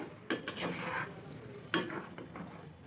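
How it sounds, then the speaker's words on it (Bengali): Potatoes being sautéed with spices in a pan for stuffed chilli fritters, a brief mix of soft sizzling and a few sharp spoon scrapes against the pan. "আমি খুব ভালোভাবে মশলার সাথে আলুটা কষে নেব"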